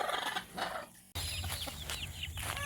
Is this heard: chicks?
yes